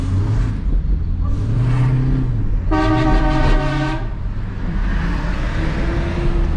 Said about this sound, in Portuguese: Vocês podem usar a buzina de vocês pra tudo, rapaziada.